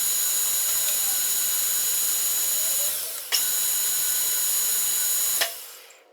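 A lathe taking a slow, controlled facing cut on polyacetal plastic gives a steady high-pitched whine that runs continuously, breaks off briefly once, resumes, then stops near the end, with no one talking.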